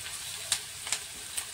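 Asafoetida dropped into hot oil in a pan while cooking palak paneer gives a steady, faint sizzle, with a few brief crackling bursts standing out above the frying hiss.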